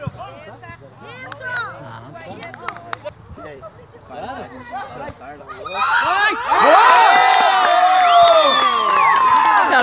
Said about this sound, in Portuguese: A torcida!